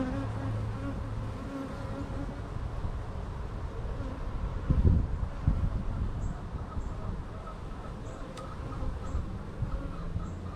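A honey bee swarm hums with a steady, dense buzz throughout a hive inspection on a chilly day, with a brief soft knock partway through and no talking.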